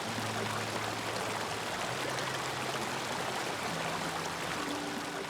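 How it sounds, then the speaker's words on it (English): A river flows steadily in the video game Season: A Letter to the Future, a continuous rushing wash of water that stays even and fairly close throughout. "with the river,"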